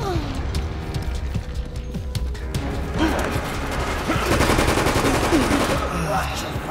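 Gunfire in the video game Resident Evil Operation Raccoon City: rapid automatic bursts and clattering weapon mechanisms, growing denser and louder midway, with scattered voices under the shooting.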